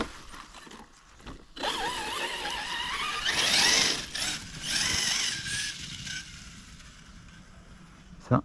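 Traxxas Sledge 8S RC car whose motor pinion meshes poorly with the spur gear gives a close, warbling gear whine with rough mechanical grinding, swelling louder through the middle and then easing off.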